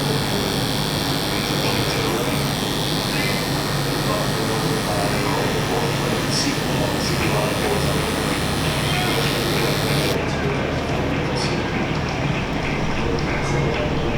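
Electric hair clippers with a detachable OA blade buzz steadily and loudly throughout a barber's fade haircut, running close and continuous with a voice talking over the hum.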